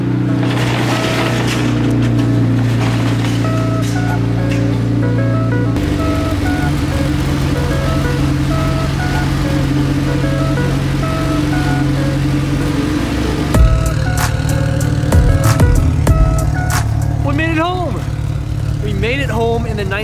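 A 1977 Datsun 280Z, revived after sitting untouched for 14 years, drives with a steady engine drone and road noise throughout, mixed with music and occasional clicks and rattles.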